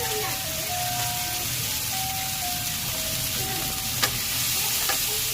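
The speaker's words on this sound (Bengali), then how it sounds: "ভালোভাবে ভেজে নিচ্ছি" Spiced food frying in a pan, a steady mid-level sizzle with faint tonal background sounds and a couple of light clicks from stirring.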